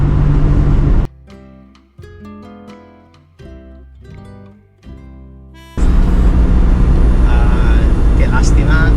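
Citroën GS flat-four boxer engine cruising at 80 km/h, a steady loud drone that drops away for several seconds in the middle, broken by tonal music-like notes, before the engine roar returns full and continuous.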